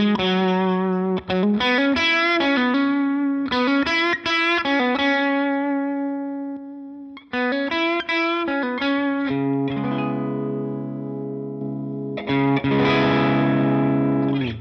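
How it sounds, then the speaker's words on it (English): Electric guitar played through a heavily overdriven amp modeled on a Line 6 Helix, gritty breakup distortion on chords and single notes, loud and close, with sustained ringing tones near the end. "do you also notice the different breakup distortion characteristics of the amp?"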